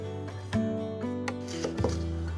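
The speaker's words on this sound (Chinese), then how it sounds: "青椒今天买比较大颗，用一半就好，随意切成不规则的片状" A knife slices half of a large green bell pepper into irregular pieces, with a few quiet, separate cutting knocks over soft tonal background music.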